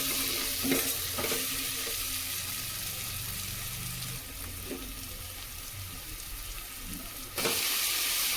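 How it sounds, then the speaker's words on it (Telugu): Eggplant pieces go into a pan of softened tomatoes for a village-style brinjal and dried fish curry, setting off a steady loud sizzle with stirring scrapes and a fresh burst of frying near the end. "ఇప్పుడు మనం ఇందులోకి వంకాయ ముక్కలు అన్నవి వేసేసుకుందాం."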